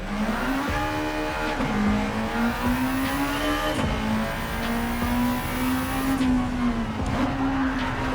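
A Honda EF Civic Si races in Gran Turismo 7, its engine droning steadily with rising and falling revs through gear changes, accompanied by brief tire squeal and other cars nearby, loud and continuous without talk.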